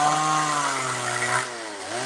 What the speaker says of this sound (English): I'm sorry about the chainsaw noise